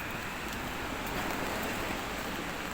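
Steady rain falls continuously in Spain, a dense, even hiss with no breaks and no voices.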